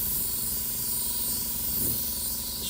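An airbrush sprays paint and blows air in a continuous, even hiss that lasts the whole stretch. It sounds fairly close and carries on alone with no speech.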